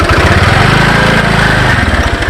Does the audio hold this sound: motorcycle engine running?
yes